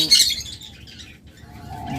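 Opaline birds chirp in a brief, bright burst at the start, then give softer scattered calls and a faint twitter near the end.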